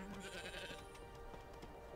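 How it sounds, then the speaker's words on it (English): Goats bleating in the survival video game Frozen Flame, a few faint, brief calls on a small island, set against quiet game ambience. "Lots of goats."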